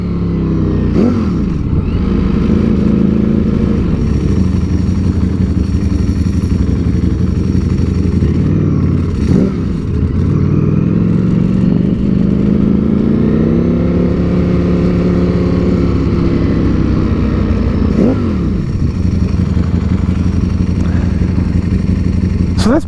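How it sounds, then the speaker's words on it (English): A 2021 Ducati Streetfighter V4 motorcycle with a full titanium Termignoni exhaust rides through Miami streets, its engine droning loud and close throughout, with rising and falling revs and brief gear-change dips. "So this bike has a Terminioni exhaust installed, full titanium, sounds and looks great."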